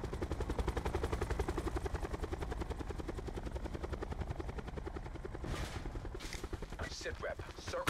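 Rapid gunfire from squads in a Call of Duty Black Ops solo-versus-quads match rattles in dense bursts over a loud, steady helicopter rotor chop, with a few sharper effects near the end.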